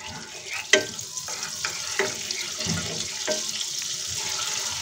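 Butter sizzling in hot mustard oil in a kadhai for dhaba-style paneer bhurji, a moderate hiss with several sharp clinks and scrapes of a utensil against the pan, close up, no talking.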